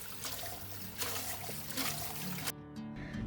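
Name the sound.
rinsing deboned chicken feet under running water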